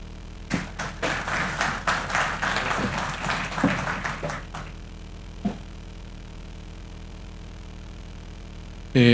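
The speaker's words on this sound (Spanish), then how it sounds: "Lo vamos a recibir con un aplauso." An audience at a transport conference applauds to welcome a speaker, a burst of many hands clapping for about four and a half seconds that then fades to room quiet, with a single tap afterward.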